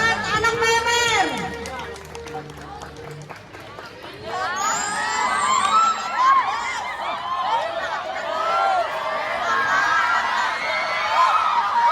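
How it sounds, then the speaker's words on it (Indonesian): Students at a PMR extracurricular demonstration at MAN 2 Indramayu in 2024 cheer and shout loudly as a crowd for the performers. A voice speaks briefly at the start before the excited shouting swells and carries on to the end. "Tepuk tangan buat anak Memer"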